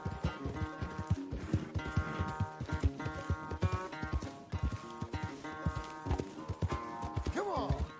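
Horse hooves clip-clop in a rapid, uneven rhythm with short whinnies and snorts during horse breaking in the Red Dead Redemption 2 western game, close and fairly quiet over faint music.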